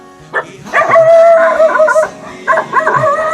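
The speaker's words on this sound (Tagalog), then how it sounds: "may aso guys. May aso." Nearby dogs on a rural farm road bark, yip and howl in loud overlapping bursts, with whining tones rising and falling.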